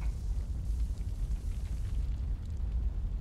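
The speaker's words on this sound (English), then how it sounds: "And so the game ended with a gigantic explosion." Gigantic explosion in the video game Asura's Wrath, a loud sustained roaring rumble with deep booming low end that continues without letup, heard alone.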